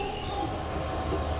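Netaji Express (12311) train running near Chandigarh with the engine attached at the front, a steady, continuous rumble of wheels and carriages close by, unbroken for the whole moment.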